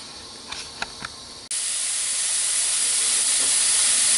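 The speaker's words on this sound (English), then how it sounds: "So toss the mushrooms in and we'll cook them fairly quickly" Mushrooms tossed into a hot pan for a mushroom risotto burst into a loud, steady hiss partway through, following a few light taps; the sizzle holds strong and even to the end, with no talking.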